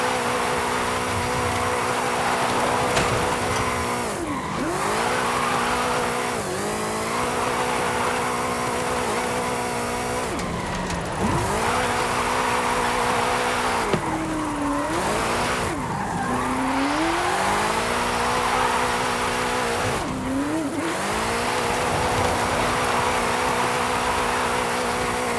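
A car drifts in the video game Forza Horizon 5, its engine droning loud and constant while tyres squeal in repeated long sweeping bursts as it slides through corners, with rising and falling revs.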